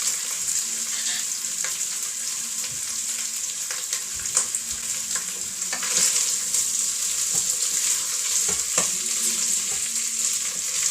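Vegetables sizzle and fry steadily in olive oil in a pan, a continuous close crackle with occasional sharper pops and stirring scrapes, no voices.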